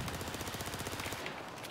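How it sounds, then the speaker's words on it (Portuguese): MP7 submachine gun in Battlefield 4 fires a rapid, steady burst of automatic shots, close and continuous, then stops abruptly near the end. "Com esses MP7 tem que dar tiro pra cacete,"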